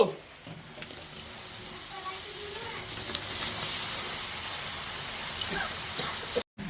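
Chopped bottle gourd pieces tipped into a hot pan of fried spices, tomato and Kashmiri chilli, bringing a steady broad sizzle with faint water-like splashing, moderately close and continuous, with soft speech in the background.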